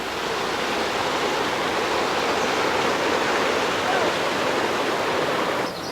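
A canyon waterfall with a 15.5-foot drop into a large pool, heard up close as a loud, steady, broadband roar of crashing water that holds unbroken throughout.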